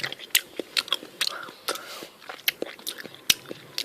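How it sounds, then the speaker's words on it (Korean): Close-up biting and crunchy chewing of a strawberry and chocolate ice cream parfait, a series of sharp crisp bites and wet mouth sounds with soft breathy murmurs between them. "이때 딸기 부분 한번 먹어볼게요"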